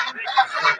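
A large domestic goose gives a short, loud, nasal honk close by, lasting under a second.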